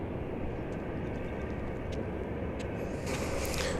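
An American Airlines Airbus A320 arriving at DFW Airport, heard as a steady distant jet engine roar that builds slightly toward the end, with faint outdoor background noise.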